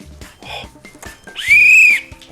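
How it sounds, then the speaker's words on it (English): A whistle, like a basketball referee's, gives one loud, steady shrill blast lasting about half a second, after some nearby handling clatter and rustling. "Oh, look. It's a whistle."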